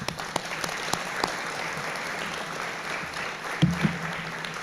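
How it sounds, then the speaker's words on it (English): Audience at a guide dog and service dog graduation breaks into steady applause, dense clapping with a few sharper claps standing out, a faint voice murmuring near the end. "I'm just going to give them a big round of applause"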